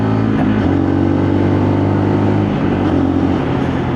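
A Lexmoto RSS Scrambler motorcycle engine drones loudly and steadily as it pulls harder on a wet road, a low continuous hum with a slight rise in pitch and wind roar close up.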